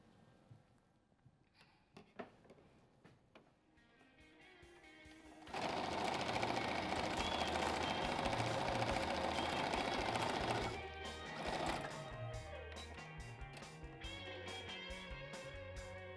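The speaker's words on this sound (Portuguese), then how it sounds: "E vou para a máquina. Aqui ainda ficou um pouquinho maior, mas não tem problema. Boto o tecido direito com direito e vou fazer uma costura aqui." Sewing machine stitching two pieces of fabric placed right sides together, a few soft clicks and handling noises, then a steady rapid mechanical chatter for about five seconds, followed by quieter irregular running.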